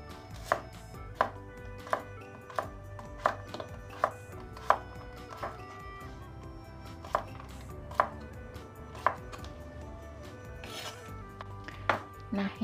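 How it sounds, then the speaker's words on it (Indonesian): Peeled carrots are cut with a knife on a board, each chop a sharp, close tap arriving in loose, uneven rhythm about once a second, with a few quicker pairs and no voices. "Kupas wortel. Kemudian potong sesuai selera."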